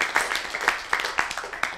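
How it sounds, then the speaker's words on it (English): A small audience at a live webcast event gives brief, scattered applause, with individual claps standing out irregularly at moderate volume for under two seconds. "So let's give him a round of applause."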